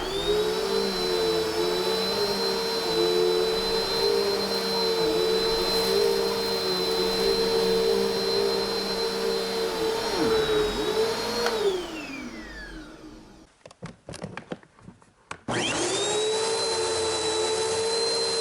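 A Bissell CleanView Swivel Pet bagless upright vacuum runs on carpet with a loud, steady motor whine, dips as it is pushed, winds down and cuts out with a few clunks, then roars back on.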